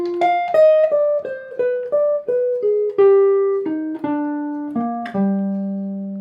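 A melodic jazz line over a minor 2-5-1 from a jazz tune, played as a clean run of about a dozen distinctly attacked, pitched notes stepping downward, solo and close, ending on a longer held low note.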